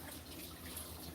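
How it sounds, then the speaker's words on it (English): Tap water runs steadily at a kitchen sink while a fork is washed, a soft continuous splashing hiss that stays quiet and even throughout. "Wash this fork too while I'm at it."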